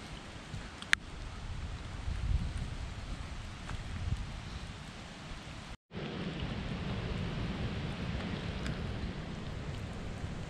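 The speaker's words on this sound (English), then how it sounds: "the rain's starting to get crazy" Heavy rain pouring during truck camping at Nopiming Provincial Park, a dense steady hiss with occasional sharp drops striking nearby surfaces and faint distant rumbling, broken by one brief cutout midway.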